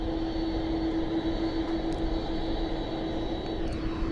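Presidential jet landing at Portland's PDX airport, a steady loud engine roar with a sustained whine holding throughout, no voices.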